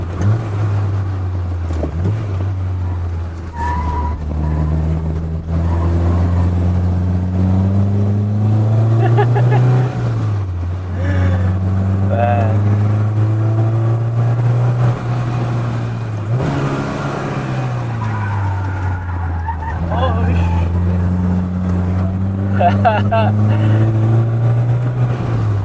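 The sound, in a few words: Peugeot 205 GTI engine after upshift on mountain road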